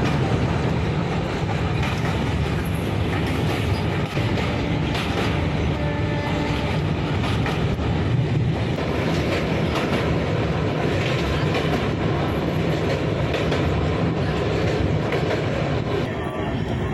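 Moving passenger train on the Kharagpur to Secunderabad route, heard loud from inside a carriage, with continuous rumbling rail clatter and a steady clickety-clack over the tracks near the Mahanadi river in Odisha.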